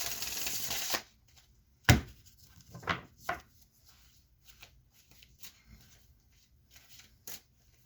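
A deck of oracle cards is riffled in one quick burst, followed by a few sharp, separate card slaps and snaps, then faint handling rustles, all close and with no talking.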